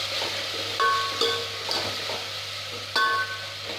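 Ginger garlic paste sizzles with onions in a pan for a goat head gravy, a soft steady fry broken by a few sharp spoon scrapes and clinks against the pan.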